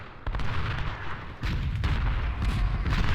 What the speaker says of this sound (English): That's some great artillery fire, though.